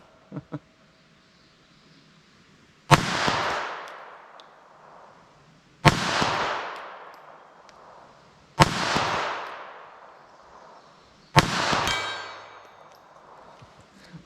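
A .22 Magnum revolver fires four loud, sharp shots into ballistic gel outdoors, each crack spaced about three seconds apart and ringing off briefly, with faint clicks before the first.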